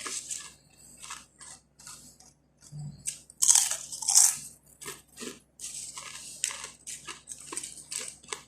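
Crunchy kubus snack bitten and chewed close up, a few sharp crisp crunches in short bursts over quiet room background, no talking.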